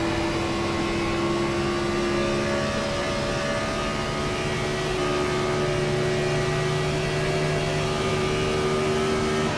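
A NASCAR Gen 4 race car engine howls at Atlanta Motor Speedway in a racing video game, a loud, constant drone held at high revs with sustained tonal whine and no pauses.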